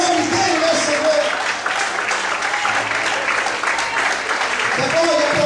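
A church congregation applauds the Lord in an evening service, loud continuous clapping with voices shouting and murmuring through it.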